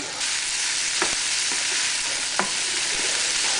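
Streaky bacon frying in its own fat with fresh thyme and garlic gives a loud, steady close sizzle throughout, broken by a few faint scrapes of a utensil and no talking.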